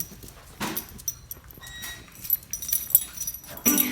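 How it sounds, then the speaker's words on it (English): A little dog moves about nearby, making soft whimpers amid scattered scuffles and jingling, irregular and fairly close, with no talking. "What are you doing, little dog?"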